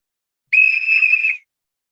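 A single shrill whistle blast lasting under a second, loud and close, on a steady high pitch that stops cleanly, with silence before and after and no voices.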